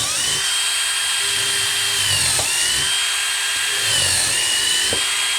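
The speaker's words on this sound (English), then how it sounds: "I'm drilling a hole actually that's bigger than the screw" A power drill bores holes into a wood board on a pole barn, whining at high speed in repeated bursts with brief pauses and speed changes, up close and without talk.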